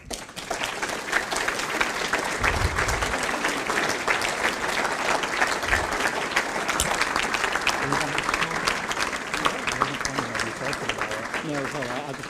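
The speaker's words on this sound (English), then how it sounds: "Big round of applause please for my friend and colleague Tom Scott." A room at a Sheffield Wednesday Supporters Trust AGM bursts into sustained, steady applause for a board member, a dense crowd of hands clapping for over ten seconds, with some voices talking near the end.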